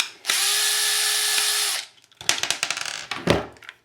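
A power screwdriver backing out screws from a holster mount, one steady high whine for about a second and a half, then after a brief pause a run of quick ratcheting clicks and rattles, close up, with no talking.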